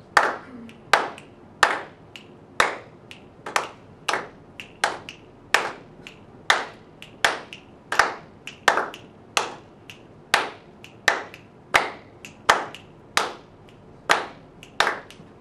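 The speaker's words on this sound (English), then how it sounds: "Everyone clapping." A group of people claps in unison as a rhythm exercise, producing a steady series of sharp, evenly spaced claps, about one per beat, close and clear with no talking over them.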